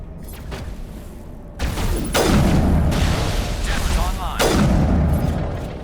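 Mass Effect game grenade blasts sound as two heavy booms with rumbling tails over continuous game background noise, while a voice talks in the clip.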